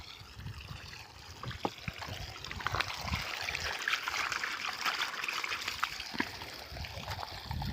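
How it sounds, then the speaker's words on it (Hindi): Water runs steadily beside a brick kiln holding 20,000 bricks, a continuous close trickling and splashing wash with scattered louder splashes throughout. "भी पानी चल रहा है।"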